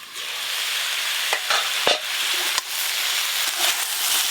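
Vegetables for a pumpkin-greens and shrimp curry fry in a pan, a steady close hiss of sizzling oil with occasional scraping stirs and spoon knocks, no talking.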